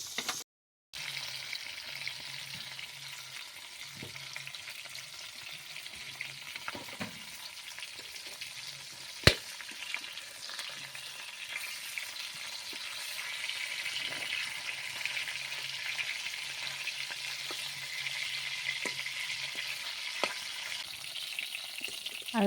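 Magur catfish frying in a wok, a continuous soft sizzle with occasional light clinks and stirring scrapes, one sharp click partway through, and no talking.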